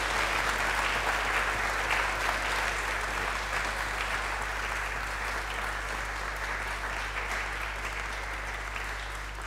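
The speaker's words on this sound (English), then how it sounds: "let's give a good applause for all the discussion that ensued as well" An audience at a memorial lecture applauding after the discussion, a dense, sustained wash of clapping that stays loud and steady, slowly easing slightly over its length over a low steady hum.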